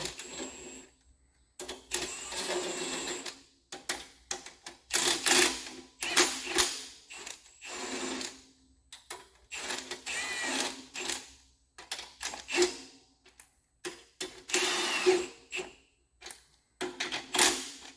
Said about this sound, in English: You're going to go ahead and tighten up the nuts.